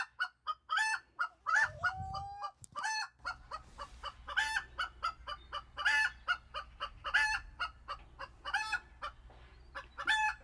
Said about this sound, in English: Can you hear that chicken?